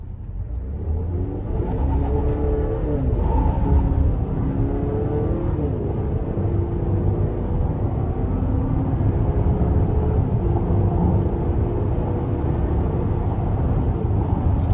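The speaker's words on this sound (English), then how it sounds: "let's see if we can do a quick pull getting on the interstate here" A 2025 Buick Enclave with the 2.5T engine accelerates onto a wet interstate, its engine note climbing through several gear changes under a steady road rumble heard from inside the cabin.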